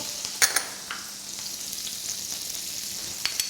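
Preserved lemon, paprika, cumin, ginger, salt and saffron sizzle in a pan for chicken tagine, a steady close hiss broken by a few sharp scrapes and taps of a utensil being stirred through.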